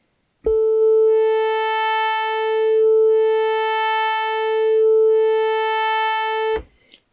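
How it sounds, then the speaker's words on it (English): Korg Wavestate synthesizer playing its Init Performance, a sustained held note built from two morphing wave samples, with bright upper harmonics pulsing in and out slowly, alone for about six seconds. "very basic performance containing two wave samples and morphing between those two wave samples"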